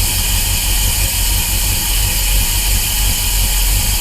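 A Cadillac engine in a PovertyBego idles just after its first start: a loud, steady, rumbling drone close by with constant vibration and no break.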